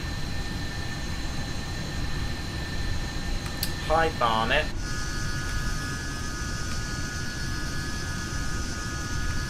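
Light aircraft engine in Microsoft Flight Simulator, straining in flight: a steady droning hum fills the whole stretch, with a short burst of speech partway through.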